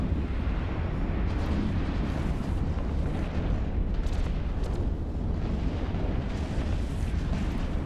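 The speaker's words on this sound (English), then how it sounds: "Good explosion here" A space battle in EVE Online erupts with a loud, dense explosion: a sustained, heavy rumbling blast with bursts and crackles that stays at full intensity throughout, with no talking.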